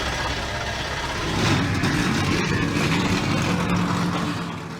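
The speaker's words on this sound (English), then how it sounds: "And the engines have been fired up." Race car engines firing up together on the grid at a stock-car event in a racing video game, a dense, steady engine rumble that swells slightly midway and holds, with no voices over it.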